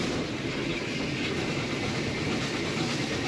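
Steady rumbling of a steam train rolling along rails over a level crossing into a station on a heritage railway, a continuous broadband roar with no distinct clatter, close and fairly loud throughout.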